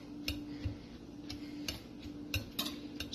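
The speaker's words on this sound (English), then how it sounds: "I will mix all together." Egg batter and flour being mixed in a bowl, with a utensil tapping and clinking against the sides in a loose, uneven rhythm of sharp ticks over a low steady hum.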